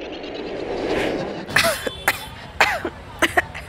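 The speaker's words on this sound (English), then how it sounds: "Are, why are you coughing again?" A man coughs in several sharp, separate bursts, loud and close, with a short throat-clearing quality and quiet pauses between the coughs.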